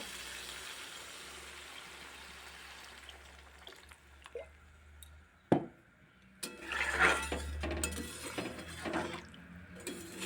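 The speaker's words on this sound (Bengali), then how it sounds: "এখন ঝোলের জন্য জল দিয়ে দেব" Water poured into a pan of fried potatoes to make gravy, heard as a sharp clatter followed by a rushing, hissing splash after a quiet stretch of faint background noise.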